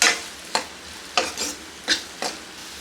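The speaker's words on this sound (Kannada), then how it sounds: "ಇದೇ ತುಪ್ಪದಲ್ಲಿ ಚೆನ್ನಾಗಿ ಫ್ರೈ ಮಾಡ್ಕೋಬೇಕು" Ghee sizzling in a pan while something is stirred, with four or five distinct scraping bursts spaced about half a second apart over a low steady fry, no voices.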